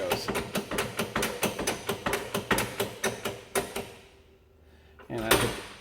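On a Massey Ferguson 8570 combine during repair work, a socket is struck by a fast, regular run of close, sharp metallic blows. After a brief pause, one final louder hit lands.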